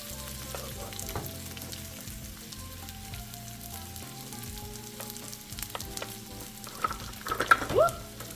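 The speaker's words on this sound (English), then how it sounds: "now I'm simply going to just add my chopped walnuts into the skillet. Get a nice and sizzle going on." Chopped walnuts sizzle and crackle in a hot oiled skillet, a steady low frying hiss with a few sharper pops and stirring clatters toward the end.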